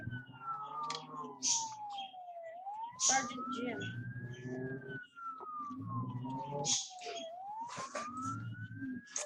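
A toy police siren wails in slow rising and falling sweeps, running continuously while a person talks over it.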